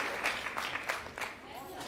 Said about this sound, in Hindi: एक बार ताली बनती है, जोरदार ताली